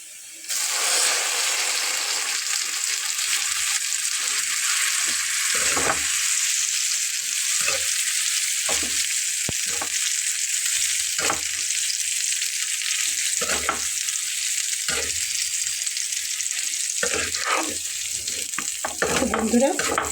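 Mashed elephant yam with turmeric frying in oil in a pan, a loud continuous hiss and sizzle running throughout, with occasional scraping stirs dotted through it and no voices.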